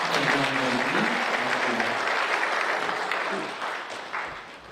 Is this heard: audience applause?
yes